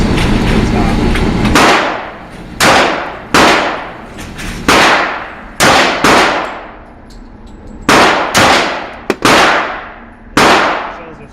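Loud, close gunshots ring out at an indoor shooting range. About ten sharp reports come at irregular intervals, each with a booming echo that dies away quickly, and a voice speaks faintly between them.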